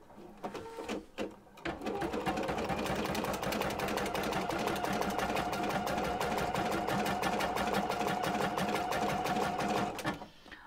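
An embroidery machine stitches out a machine-embroidered card design, a rapid steady mechanical needle rattle that starts after a few clicks and runs evenly before stopping near the end.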